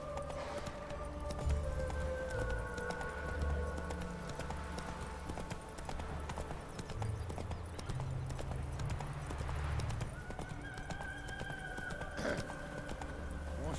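Horse hooves clip-clop steadily at a gallop in The Witcher 3, rhythmic and close, with game music tones and occasional ambient effects layered over the running beat.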